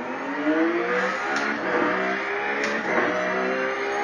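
A race car in a simulation racing game revs hard at full throttle around Bathurst, a steady loud engine whine rising and shifting in pitch with no talk over it.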